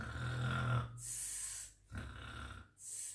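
A voice imitates snoring in a playful children's scene, giving two long, loud snore-like inhales each followed by a breathy puffing exhale, evenly repeated close to the listener with no talk over them.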